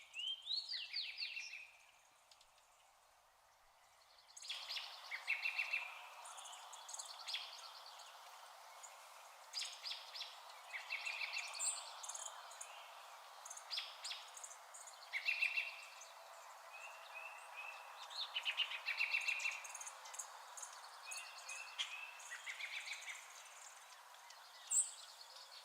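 Faint, distant birds chirp and twitter in scattered bursts through a long, quiet outdoor stretch, with no talking.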